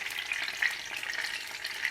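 Eggplant pieces frying in the same pan used for onions, a steady close crackling sizzle with no talking.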